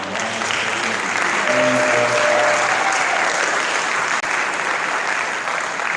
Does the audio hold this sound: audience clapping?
yes